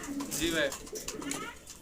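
Fancy pigeons cooing close by, soft throaty coos mixed with a person talking at the same time.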